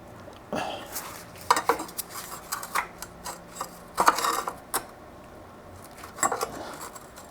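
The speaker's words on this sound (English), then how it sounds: "let's get that oil pan off. Let's see if we give it just a little pry here" Metal scraping, clinks and ratcheting clatter come from a pry tool working at the oil pan of a Jeep CJ5 engine, in irregular close bursts with short pauses between efforts.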